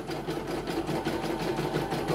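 A CNY E900 embroidery machine runs a test stitch, giving a steady, fast mechanical whirring with a regular rapid pulse, close and continuous without any talk.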